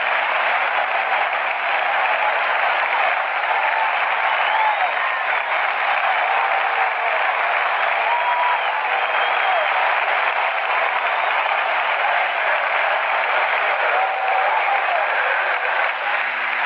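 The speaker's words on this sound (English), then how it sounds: "Applause for Matty Alou and also for Frank Howard." Baseball stadium crowd at the 1969 MLB All-Star Game applauding Matty Alou, a steady, distant roar of clapping and crowd noise heard through a narrow, hissy radio broadcast, continuous and unbroken.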